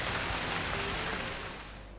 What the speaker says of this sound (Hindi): बलूचिस्तान के बेशतर इलाकों में बारिश हुई।